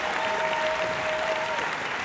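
Concert hall audience at Baxter Concert Hall applauding to welcome a jazz choir at a showcase concert, a sustained wash of many hands clapping, even and full, with a faint tone ringing briefly beneath.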